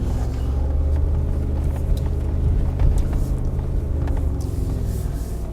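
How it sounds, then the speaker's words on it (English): A Mercedes G-Class off-road vehicle circles slowly at a driving training event, its engine a steady low rumble throughout, close and without talk. "So now I drive in a circle, and I try not to steer too much with the steering wheel."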